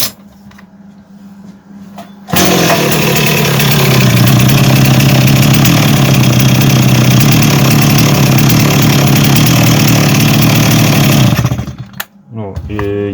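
A STIHL MS260 chainsaw engine runs loud and steady at idle for about nine seconds after a quiet start, cutting off abruptly near the end; the saw has a starting fault and a weak, too-low idle.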